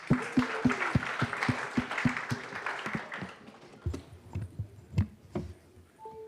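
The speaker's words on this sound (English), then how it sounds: "Round of applause for Thesis." Audience applause at a startup demo night in San Francisco, a burst of dense clapping that thins into scattered individual claps and fades out by the end.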